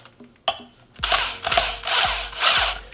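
Impact wrench removing the clutch bolt on an 850 E-TEC Gen 4 snowmobile: a few short ratchet clicks, then four loud, close hammering bursts in quick succession.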